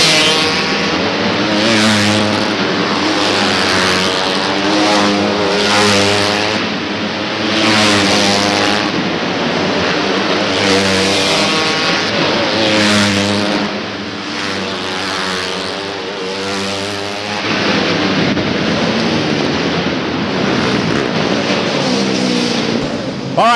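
Several 250cc Kage karts race on the Salem indoor speedway oval, a loud continuous engine drone that rises and falls as karts pass close in repeated waves, with no talk over it.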